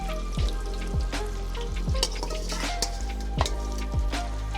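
Potatoes frying in oil on a Mexican disco, a dense continuous sizzle and bubbling up close, with occasional clinks of utensils against the metal pan.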